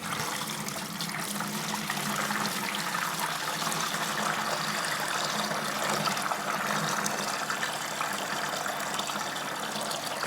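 Water steadily trickles and gurgles through a siphon tube draining a planted aquarium, a continuous soft wash of flow with no talking.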